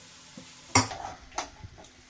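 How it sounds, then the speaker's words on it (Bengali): A utensil clanks and scrapes against a pan in a few sharp knocks over a faint sizzle of onions frying. "ততক্ষণ আমি পেঁয়াজটা আরেকটু ভেজে নিই"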